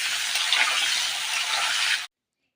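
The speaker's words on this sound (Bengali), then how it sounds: "এবার আমি আলুগুলো ভাজা করে তুলে নেব।" Cut potato pieces fry in hot oil in a pan at home, a dense, even hiss and sizzle held for about two seconds before stopping abruptly.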